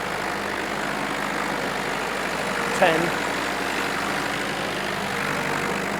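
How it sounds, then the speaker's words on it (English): A classic four-wheel-drive tractor's heavy engine labors steadily pulling a long trailer, a constant low rumble throughout, while someone speaks briefly partway through. "This tractor's working hard."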